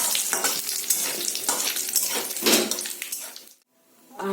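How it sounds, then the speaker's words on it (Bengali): Whole cumin and dried red chilies sizzle in hot oil while being stirred, with rhythmic scraping pulses close up before the sound cuts out and briefly returns. "আর গোটা জিরে, ভালো করে একটু নেড়ে চেড়ে নেব।"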